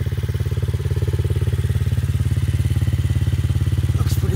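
A freshly serviced 2008 Yamaha TTR50 pit bike engine runs close and loud, with a steady, rapid putter of even pulses and no break for the whole stretch.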